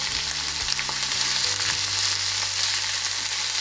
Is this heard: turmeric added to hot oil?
yes